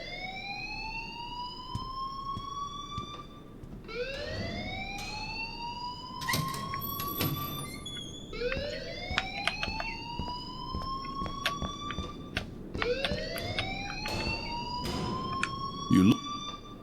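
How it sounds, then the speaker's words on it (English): An alarm rings in the video game Life is Strange. It repeats a rising electronic wail about every four seconds, loud and steady, with voices talking underneath. "please turn off that alarm"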